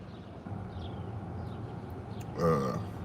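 One short, low burp near the end, loud against a steady background of noisy rumble with no talking.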